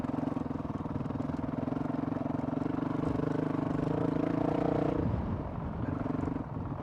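A Honda CRF 450 RL dirt bike engine runs at barely any throttle, a steady low, throbbing chug that holds even, dips briefly near the five-second mark, then settles back to its smooth tractoring pulse.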